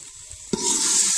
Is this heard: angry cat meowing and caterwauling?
no